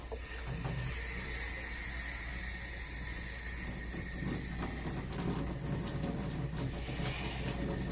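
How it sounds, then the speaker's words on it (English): Steady running water from a faucet, a continuous broadband hiss and splash that stays even throughout. "I will use a towel to turn on the faucet."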